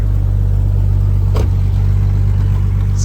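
A rental Jeep's engine runs after its starter was tapped with a wrench, a loud, close, steady low rumble with no talk.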